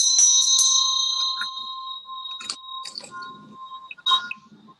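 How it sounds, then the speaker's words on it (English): A small hand bell rings clearly several times at the start of a live session, bright and close, with its tone ringing out and fading between strikes. "I will ring my little bell"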